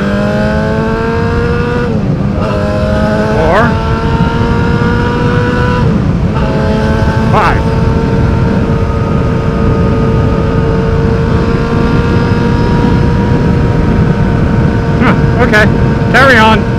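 A 2006 Yamaha R6S motorcycle engine drones loud and close through a steady ride, its tone rising and dropping with gear changes every few seconds, while a rider talks over it throughout.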